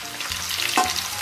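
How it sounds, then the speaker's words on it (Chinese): Pork ribs stir-fry in a hot wok with chopped scallion and garlic, sizzling steadily up close with a brief scrape of stirring partway through, and no voices. "继续给它煸炒一下"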